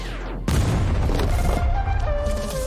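An explosion sound effect bursts in after a short low rumble, a loud booming blast that sustains with crackling debris and tails off over a couple of seconds.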